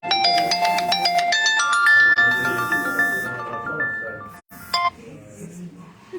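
An incoming phone call rings with a rapid series of electronic tones and beeps, fairly loud over kitchen background noise, with voices talking nearby.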